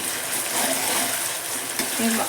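Onions fry in oil in a pan for a fish curry, a loud steady sizzle and hiss with a few light stirring clicks, heard up close with no one talking.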